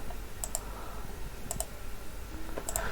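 A computer mouse clicked in three quick double-clicks spread evenly across the moment, crisp and close over a faint room hiss with no talking.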